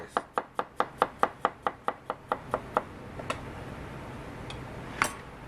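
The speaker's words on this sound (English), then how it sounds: "Carrot, little bit thin slice." A knife thinly slices carrot on a cutting board in a quick, even run of about a dozen crisp chops that slow and fade, followed by a couple of isolated taps, close by.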